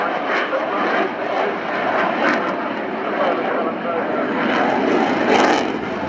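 Boeing F/A-18 Super Hornet jet powered by a pair of General Electric F404 afterburning turbofans at an airshow, a loud steady broadband roar throughout with a commentator talking over it.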